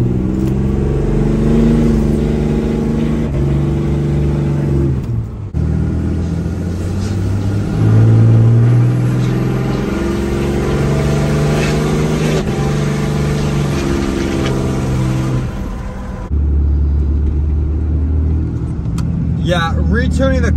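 A Megacab Ram truck with a retuned Cummins diesel accelerates hard, its loud low engine drone rising and holding across several long pulls, with a brief lull before another surge near the end.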